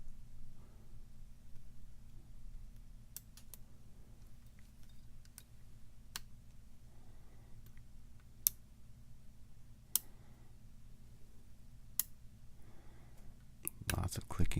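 Lock pick clicks against the pins of a Viper lock, a string of sharp, isolated ticks spaced a second or two apart, with quiet speech murmuring between them and a louder clatter at the end.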